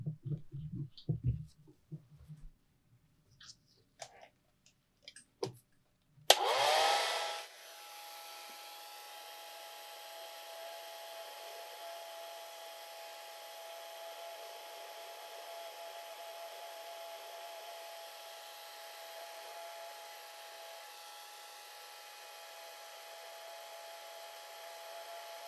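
A hair dryer switches on abruptly and runs as a steady, loud whooshing drone while drying a watercolor painting of a squirrel, following a few faint taps and handling sounds.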